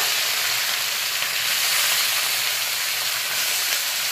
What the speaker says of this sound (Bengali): তেলটা গরম হয়ে গেছে, এখন আমি ছোট মাছগুলো দিয়ে দিচ্ছি। ছোট মাছগুলো ভেজে নেব।